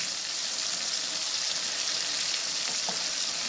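Tomato with salt, garlic paste, turmeric and chili powder sautéing in a pan, giving a steady, close, even sizzle and hiss with a faint stir noise and no voices.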